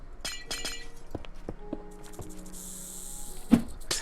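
Glass blocks shatter in the video game Minecraft, giving a series of sharp, crisp clinking breaks spaced irregularly, with a louder crash near the end, moderately close and heard without speech.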